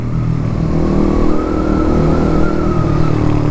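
A Raider 150 FI motorcycle fitted with a short power-pipe exhaust revs loud and close, holding a steady throaty roar for several seconds with no talking.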